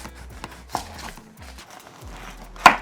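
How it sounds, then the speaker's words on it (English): A knife cuts the top and bottom off a large yellow onion on a board, producing a few crisp chopping knocks and soft slicing rubs, ending with one loud close tap. "Cut the top off, cut the bottom off."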